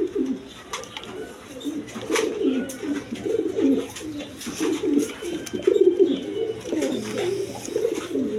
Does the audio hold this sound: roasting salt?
no